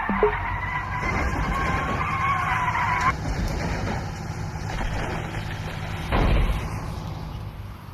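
A car in a VR game skids with a sustained squeal for about three seconds over a low engine rumble, followed by a thud near the end.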